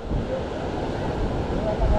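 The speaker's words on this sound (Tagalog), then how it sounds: "nandito po tayo ngayon sa tabi ng dagat" Sea waves wash against the shore at San Jose, with steady broadband surf noise and some wind buffeting the microphone throughout.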